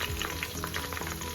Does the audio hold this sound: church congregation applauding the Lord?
no